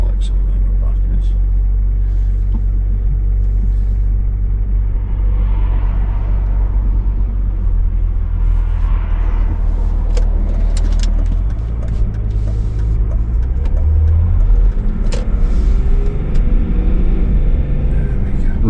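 A Stiga Titan ride-on mower engine runs with a loud, constant low rumble close by, its pitch shifting slightly as it moves, while someone talks over it.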